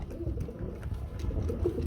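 Danish pigeons give a brief burst of soft, low, throaty cooing close at hand, in a steady murmur.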